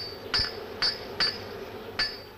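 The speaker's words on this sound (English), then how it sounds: "Then with his hammer, he welds the link." Four sharp hammer blows ring out at a forge as a chain link is forge-welded, each strike a bright metallic clang spaced roughly half a second apart over a quiet background.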